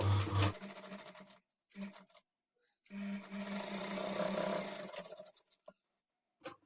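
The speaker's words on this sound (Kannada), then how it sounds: "ಕಾಲು ಇಂಚ್ ಮಾರ್ಜಿನ್ಗೆ ಸ್ಟಿಚ್ ಮಾಡ್ಕೊಳ್ಬೇಕು" A sewing machine stitches a blouse sleeve seam at a quarter-inch margin, running in bursts of mechanical whirring with pauses between them, close and fairly quiet.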